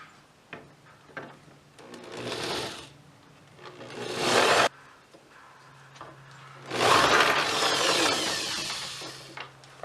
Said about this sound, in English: Before I do that, I'm going to countersink these holes.